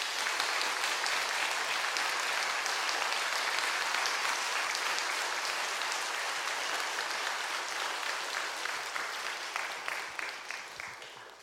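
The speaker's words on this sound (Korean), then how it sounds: "우리 그게 환영하는 박수 한번 크게 한번 하겠습니다" A church revival meeting audience claps loudly to welcome the pastor, dense sustained applause that holds steady and then gradually thins and fades toward the end, with no speech over it.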